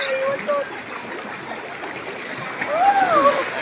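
Strong river current rushing past with intermittent splashing, steady and close, while people talk over the water.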